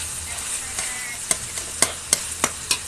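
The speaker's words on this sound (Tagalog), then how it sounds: "ginigisa na natin yung giniling sa mantika na may sibuyas, bawang" Ground meat sautés in oil with onion and garlic for a pancit palabok sauce: a steady sizzle broken by several sharp, evenly spaced spatula clinks against the pan toward the end.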